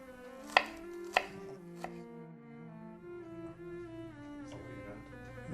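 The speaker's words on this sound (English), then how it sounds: "So just kind of chop it small if you can." A knife chopping food small on a board for chicken parmesan, a few sharp distinct knocks early on, then quieter kitchen sounds with faint tonal hum and little activity.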